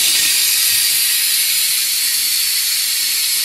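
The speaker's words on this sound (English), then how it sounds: "my pressure cooker has stopped. I'm gonna let the pressure out." A pressure cooker that has just finished cooking chicken vents its steam in one loud, continuous, close hiss that holds steady without a break.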